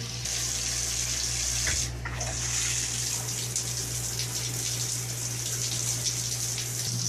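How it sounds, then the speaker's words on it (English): Water runs steadily from a low-flow shower, a continuous even hiss with a low hum beneath it and no other sounds. "This is the crappiest shower you will ever take in your life because these are low flow pipes."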